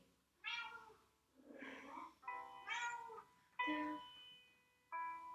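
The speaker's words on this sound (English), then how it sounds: "I'm sure you can hear him purring and chirping in the background" A young pet kitten meows and chirps in a series of five short, bright calls with brief pauses between them, fairly close but soft, heard indoors during a quiet stretching session.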